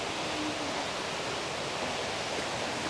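Steady, broadband rushing of falling water, loud and continuous without pause, with no voices present.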